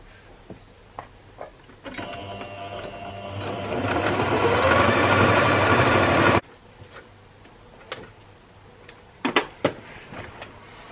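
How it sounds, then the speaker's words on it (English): A sewing machine stitches straight across a strap on a pair of handmade shorts, running as a loud steady whir for about four seconds, with quieter handling clicks and taps before and after. "then I'll stitch all the way across on top of the strap"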